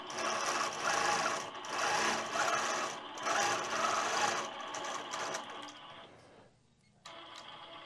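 Sewing machine running continuously while freehand quilting a colourful fabric panel, a steady close mechanical whirr that surges and eases in rhythm, then briefly drops to near silence before resuming.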